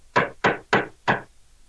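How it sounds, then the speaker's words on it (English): Four firm, evenly spaced knocks on a door ring out close and loud in a quiet room, with no voices. "So just a normal knock, not anything fancy."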